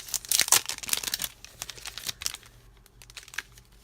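Crinkly handling of Happy Planner date stickers on a sheet, close and bright rustles and crackles in quick irregular bursts that thin out toward the end, with no talking.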